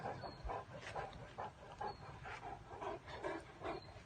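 A Great Dane makes soft, repeated whimpering and panting vocalizations in a steady rhythm, close by and fairly faint against a noisy outdoor background.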